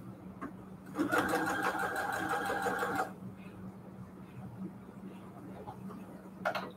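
Sewing machine running a straight stitch with a reverse back stitch, a close, even mechanical whirring burst of about two seconds, followed by softer clicks, quiet handling sounds and a brief final whir.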